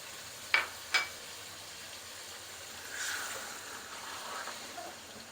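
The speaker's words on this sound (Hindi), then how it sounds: "आलूओं को भी थोड़ा सा भूनेंगे, चिकन के साथ भुनाई करेंगे।" Potatoes and chicken sizzle steadily in a hot pot, with two sharp metallic clinks near the start and a louder burst of frying midway.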